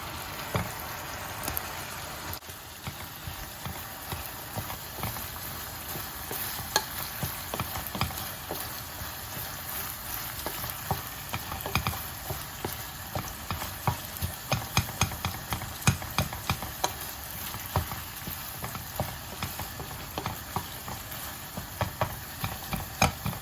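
Onions frying in a pan for Algerian stuffed brioche bread, a steady crackling sizzle running throughout with fine popping spatter and occasional stirring scrapes, no voices.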